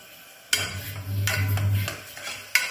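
Masala for a chicken white kurma, with green chilies, being stirred in a cooking pan over a low flame: a few close, rough spatula scrapes over a soft, steady sizzle.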